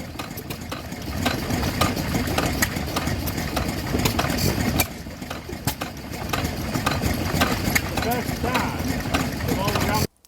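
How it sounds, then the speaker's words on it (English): Stationary engine running at the Masham steam fair, a steady close chugging beat with irregular clattering, outdoor crowd noise around it and voices talking over it throughout. "this was my favourite stationary engine"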